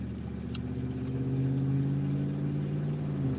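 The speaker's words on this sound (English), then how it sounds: "Sorry, yeah, the fire trucks don't stop." A fire truck drives past on a street during a search in Nashville, its engine a steady, loud mid-range rumble that holds throughout without any voices.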